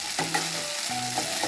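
Sabudana khichdi sizzles steadily in a pan as it is stirred. A few soft scraping strokes of the spoon sit over the continuous close frying hiss.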